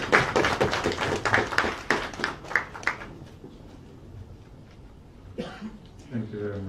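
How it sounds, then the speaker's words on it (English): An audience at a presidential briefing for trade and transport stakeholders claps for the Minister of Trade. Sharp, fairly close claps come in a burst for about three seconds, then thin out into a quiet gap before voices pick up. "Now we'll clap for the Minister of Trade."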